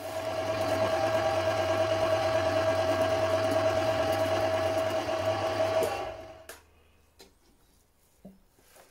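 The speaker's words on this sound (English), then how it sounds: "Just give it a good old mix, and then when it goes back through the mincer" An electric meat mincer works sausage meat in a traditional butcher's shop, its motor a steady, loud droning whine that cuts out after about six seconds, leaving faint handling noises.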